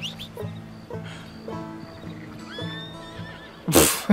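A horse in Red Dead Redemption 2 gives a loud, close whinny with rising and falling tonal calls, accompanied by steady rhythmic hoof clip-clops and a sharp burst near the end.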